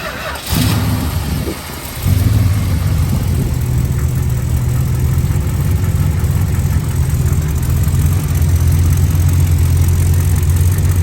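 A 1967 Chrysler New Yorker with a 440 V8 cranks briefly and catches, then settles into a steady, deep idle that holds close and loud for the rest of the stretch, with no talking.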